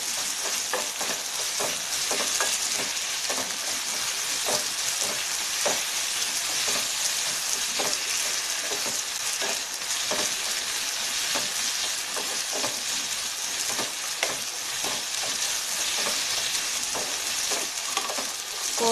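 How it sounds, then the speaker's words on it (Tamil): Potato and beetroot are sautéed in a pan, giving a continuous close sizzle and frying hiss with regular scraping of the stirring spoon, steady throughout with no talk. "காய் சீக்கிரம் வெந்துடும், லைட்டாக வணக்கி விட்டாலே போதுங்க."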